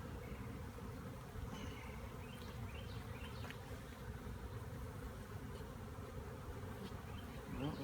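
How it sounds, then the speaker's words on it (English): Honey bees from a swarm trap cutout buzz steadily after being shaken off a frame, a dense, continuous close hum of many insects with no talking. "So I'm gonna try and shake off, in case the queen's on there,"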